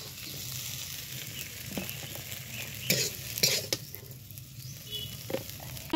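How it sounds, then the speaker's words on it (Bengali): Malabar spinach leaves frying with shrimp in a pan, a soft continuous crackle under brisk stirring scrapes and a few sharper taps, close and moderately quiet, no voices present. "পুঁই পাতাটা এইভাবে চিংড়ি সহ ভেজে নিতে হবে"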